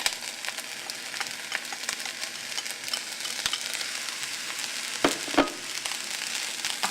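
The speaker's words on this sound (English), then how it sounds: "Now drop your eggs in" Eggs frying in a hot pan, a continuous close sizzle with scattered crackles and a couple of sharper pops near the end.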